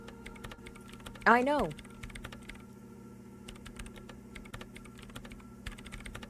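Fast keyboard typing in the Disco Elysium video game, steady quiet clicks of many commands being entered into a machine, with a brief spoken line near the start.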